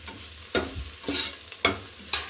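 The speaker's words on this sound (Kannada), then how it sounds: "ಇದನ್ನೆಲ್ಲ ಸ್ವಲ್ಪ ಹಾಗೆ ಮಿಕ್ಸ್ ಮಾಡ್ಕೊಬೇಕು" Garam masala being stirred into vegetables in a pan for vegetable pulao, a low sizzle beneath four distinct scraping strokes of the spoon at a steady rhythm, close and clear with no talking.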